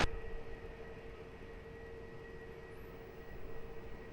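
Low, steady roar of a jet airliner taking off from a runway at Lisbon Airport, heard from a distance as a continuous broadband rumble with a faint tonal whine, swelling slightly toward the end.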